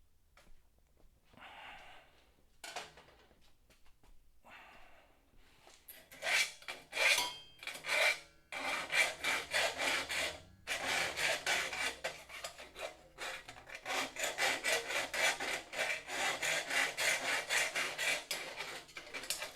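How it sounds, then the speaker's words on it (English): A metal edge is deburred with a hand file, starting with a few sparse scrapes and building into steady, rhythmic rasping strokes that are close and fairly loud. "So what I'm doing is, this is deburring."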